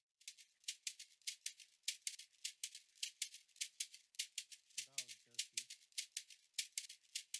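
A second shaker layer from Ableton Live's stock sounds in an Afrobeat beat, dense rapid bright rattling strokes in a busy continuous groove, with a short spoken phrase low underneath midway.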